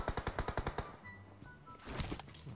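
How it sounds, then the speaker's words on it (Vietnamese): Gunfire in PUBG Mobile: a rapid automatic burst of about eight evenly spaced shots rings out, then a quieter pause and another rough burst of shots, fairly faint and somewhat distant, with no talking. "Bên kia vẫn đang còn khá là nhiều tiếng súng luôn đi."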